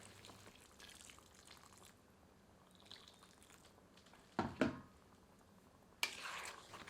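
Hot water poured into a yellow chili chicken curry in a pan gives faint, close splashing and sizzling bursts, two short surges of liquid sound over a quiet background.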